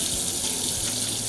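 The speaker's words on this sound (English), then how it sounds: "We're going to start off with our soap and water." Tap water runs steadily into a sink during handwashing with soap, a close, continuous hiss and splash filling the short stretch with no voices.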